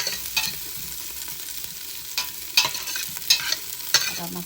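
Onion and ginger sautéing in a pan for a mussel soup, a steady sizzle broken by several sharp stirring scrapes and clatters, close and with no talking.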